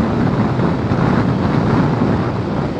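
Strong wind roaring over a Forza 300 motorcycle while riding, a loud, dense, steady rush of buffeting noise with no voices.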